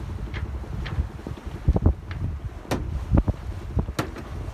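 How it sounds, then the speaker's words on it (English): A sailboat winch on deck gives a few short, sharp ratcheting bursts against steady wind buffeting and boat noise, fairly close. "The winch."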